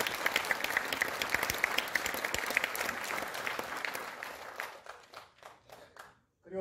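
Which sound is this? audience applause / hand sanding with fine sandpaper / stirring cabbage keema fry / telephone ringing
audience applause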